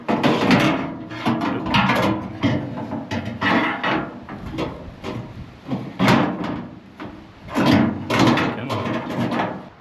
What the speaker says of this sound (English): we're gonna put this window channel in. This goes on the back side of the door